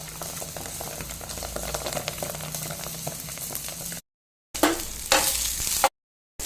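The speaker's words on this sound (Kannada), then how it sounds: "ಒಂದು ಕಡೆ ಮಸಾಲವನ್ನು ಫ್ರೈ ಮಾಡ್ತಾ ಇದ್ದ ಹಾಗೆ ಇನ್ನೊಂದು ಕಡೆ ನಾನಿಲ್ಲಿ ತುಪ್ಪವನ್ನು ಮಾಡ್ತಾ ಇದ್ದೇನೆ" Onion, garlic and masala frying in a pan, producing a dense close sizzle with bubbling and stirring scrapes, interrupted by two short silent gaps where the sound cuts out abruptly.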